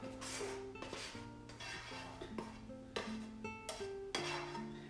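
Cooked potato mixture for a Spanish tortilla tipped from a 12-inch pan into beaten eggs, giving soft clinks and scrapes of utensil on cookware in a quiet kitchen, with light background music.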